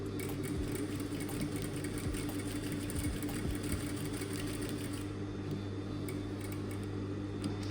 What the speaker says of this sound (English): So let's give it a little bar tag, or just a tag, because I don't have a zigzag stitch on this machine.